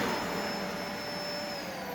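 A vacuum cleaner runs steadily in a home hallway, with a loud, continuous motor whine and airy rush and a faint high tone on top, heard alone and close.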